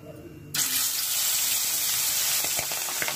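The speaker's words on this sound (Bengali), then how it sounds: "আমি এখন একটা একটা করে পাবদা মাছ এর মধ্যে ছেড়ে দেব।" Pabda fish drop into smoking-hot mustard oil and break into a sudden, loud, steady sizzle that runs on close by, with a few faint clinks near the end.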